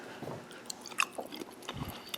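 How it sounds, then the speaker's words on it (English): Quiet close-up chewing of soft marinated carrot and mushroom salad, a few soft wet bites and squishy mouth sounds scattered over two seconds, with no crunch. "Not a lot of crunch, no crunch in the carrot."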